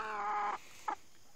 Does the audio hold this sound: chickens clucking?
yes